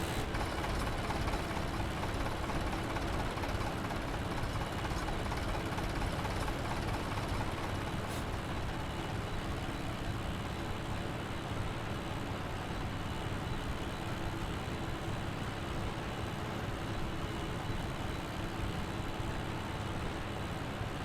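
A tractor engine in Farming Simulator 17 drones steadily while pulling a load of bales, a constant, loud rumble that barely changes for the whole stretch.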